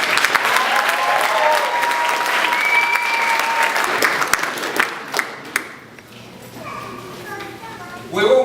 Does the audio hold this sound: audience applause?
yes